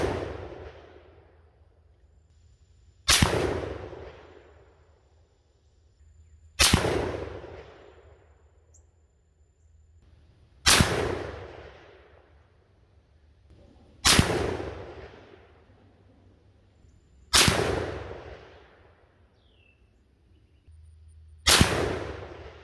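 Six loud, sharp reports from a Remington Woodsmaster .308 semi-automatic rifle firing Hornady 165gr InterLock loads, spaced about three to four seconds apart, each ending in a rolling outdoor echo. No talking.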